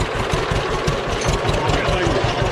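Tractor engine running steadily in first gear while planting potatoes, a low rhythmic chugging throb with mid-range rumble, close and continuous throughout.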